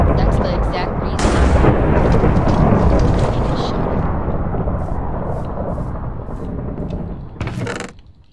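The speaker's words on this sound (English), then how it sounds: "I keep getting shot with the electric thingy-majigga, with the lightning" A loud lightning strike in a modded video game booms into a long, rumbling roll of thunder that slowly fades over several seconds, with a few sharp clicks near the end.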